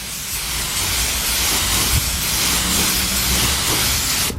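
A spray can or gun hisses continuously and loudly at close range while coating the interior surfaces of a DA9 Integra, one steady unbroken burst.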